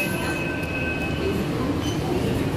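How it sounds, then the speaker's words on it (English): Steady low rumble of a Mumbai Metro train in motion with faint high tonal whine, heard from inside the carriage. "My first ever train ride."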